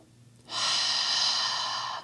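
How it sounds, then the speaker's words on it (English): A deep, steady exhalation during a yoga exercise begins abruptly and holds for about a second and a half, close and breathy with no talk over it. "Keep breathing."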